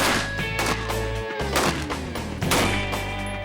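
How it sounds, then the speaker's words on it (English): Sharp gunshots and cracking impacts from tracer rounds fired at a tank, several hits in quick irregular succession over a droning, ringing background. "75 gunshots later"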